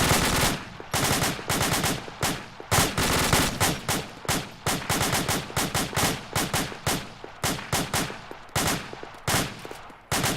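Sustained automatic gunfire in the tactical shooter Platoon Operations Fireteam 2, loud, dense overlapping bursts and single shots in an uneven rhythm throughout, with no speech.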